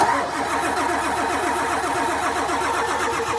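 A truck's diesel engine cranks over without firing, the starter churning in a fast, even rhythm of repeated turns that stays close and loud for a few seconds, with no catch or rev.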